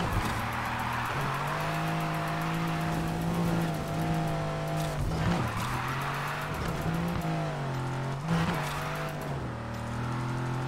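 A car drifting in Need for Speed Heat: a steady, loud engine drone with shifting pitch and squealing tires, continuous for the whole stretch without talk.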